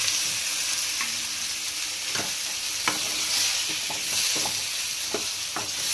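A half-eggplant vegetable curry fries in oil with a loud, constant bright sizzle, and a spoon scrapes and stirs through it in scattered close strokes with no voices.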